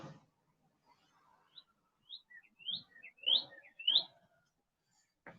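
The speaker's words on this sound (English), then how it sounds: "Got a pretty bird song" Bird song drifting down from trees above a street beside a Baltimore cemetery, a series of soft rising chirps and whistles that build to a few louder notes, faint and fairly distant, with low street rumble between them.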